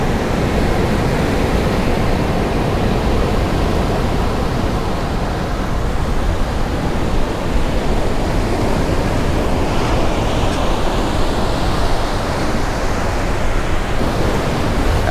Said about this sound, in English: there are some rocks right here, so that's the reason the waves are breaking pretty much right here